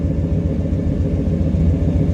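A Chevrolet Blazer engine that sat since 1997 idles close by with a low, uneven rumble, its steady chug broken by occasional misfire stumbles; no talking.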